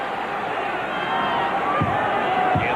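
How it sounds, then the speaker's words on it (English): Arena crowd at a 1993 NBA Finals game between the Chicago Bulls and Phoenix Suns, a steady roar of fans urging on the Suns, dense and continuous with a few louder thumps and swells near the end. "Crowd trying to get the Suns into it early."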